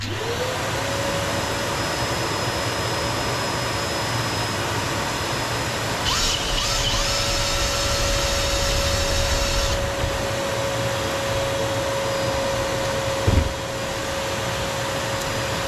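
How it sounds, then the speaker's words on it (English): A vacuum cleaner whirs on and runs steadily with a loud, continuous droning hum, a brief higher whine rising partway through. "Vacuum will go on."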